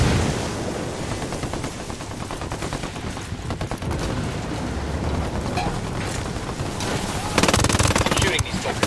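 Sustained automatic gunfire in the video game Tom Clancy's Ghost Recon Wildlands, dense rapid bursts that continue nonstop and grow louder and harsher near the end.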